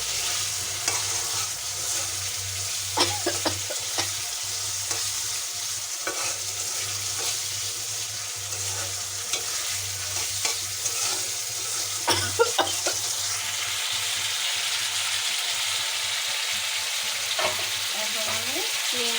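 Cauliflower and salt fry in a pan, a continuous soft sizzle beneath repeated scraping and clinking as a utensil stirs, with steady close-up stirring strokes throughout.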